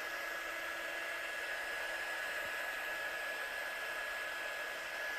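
A hair dryer runs steadily on a handmade collage of scraps and stamps, giving a constant close airy roar that stays level from start to finish with no talk.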